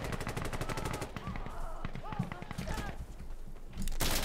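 Automatic rifle fire in Insurgency Sandstorm, a rapid loud burst of shots at the start, then scattered shots and game noise with someone talking, and another loud burst at the end.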